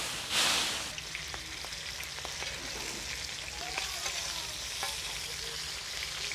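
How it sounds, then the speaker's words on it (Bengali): Hilsa fish frying in hot oil at Mawa Ghat, with a steady close sizzle, a brief louder burst of spatter near the start, and scattered light clicks and pops throughout. "নিজের হাতে ফ্রাই চলছে"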